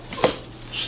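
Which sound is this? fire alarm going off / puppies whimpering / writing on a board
puppies whimpering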